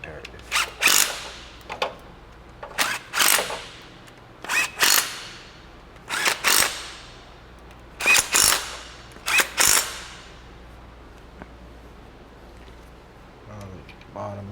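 A ratchet tightens bolts on a 600,000-mile Lexus under restoration in a series of about eight short, sharp ratcheting bursts separated by pauses, close and fairly loud, ending with a quieter stretch.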